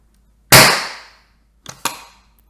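A 3D-printed airsoft Panzerfaust launcher fires with one sharp, loud pop that trails off quickly, followed by a pair of quieter clicks from the mechanism.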